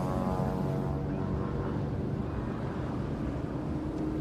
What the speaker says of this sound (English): So you'd be very familiar with that Continental engine sound.